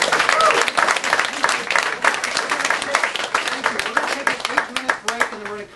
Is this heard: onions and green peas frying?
no